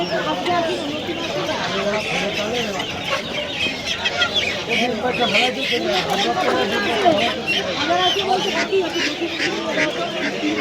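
Many chickens cluck continuously at the crowded Media poultry and livestock market, with a background babble of voices and the occasional louder squawk.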